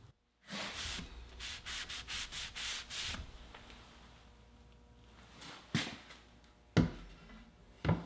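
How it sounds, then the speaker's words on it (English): Steady rhythmic back-and-forth rasping of a sanding block on hardwood, close up, followed by a pause, quieter rubbing and a few sharp knocks. "I'll use a sanding block and sand it smooth."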